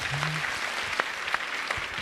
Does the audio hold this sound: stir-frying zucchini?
no